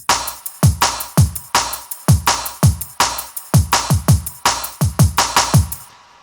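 A punchy electronic drum and bass loop made in Bitwig, with deep kicks and crisp snares in a syncopated two-step pattern, quick ghost notes between, repeating steadily until it cuts off.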